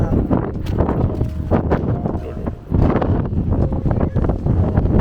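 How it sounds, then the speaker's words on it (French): Strong wind buffets a phone microphone on a Moroccan holiday, a loud continuous rumble that surges and drops, with voices talking faintly underneath. "Oh là là, il y a du vent"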